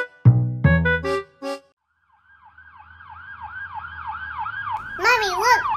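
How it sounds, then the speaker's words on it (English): A wailing ambulance siren in the Roblox video game sweeps up and down in steady repeated cycles, rising in loudness, after a brief burst of a voice at the start. "Mommy, look, an ambulance."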